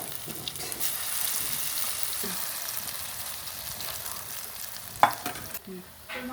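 Khesari lentil fritters frying in oil over a wood fire, a steady close sizzle and bubbling with a few light clatters near the end, no voices.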